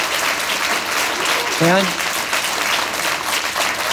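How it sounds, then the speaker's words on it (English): A church congregation at an Easter service applauds in a continuous, full wash of clapping, with a voice briefly audible partway through. "Let's clap for them."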